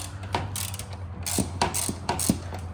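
A ratchet fitted with a 10 mm socket loosens bumper bolts on an Infiniti Q50, giving several close, crisp bursts of rapid clicking separated by short pauses.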